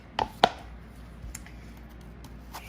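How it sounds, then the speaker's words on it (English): Kitchen knife chopping ingredients on a cutting board for karahi seekh kababs, with two sharp close knocks near the start followed by faint scattered taps, no voices. "we are chopping our rest of our ingredients for our second half of the recipe"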